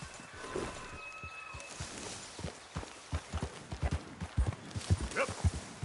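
A horse gallops in Red Dead Redemption 2, its hooves starting as scattered thuds and building into a steady, rhythmic clip-clop that grows louder and quicker, with faint voices and ambient sounds beneath.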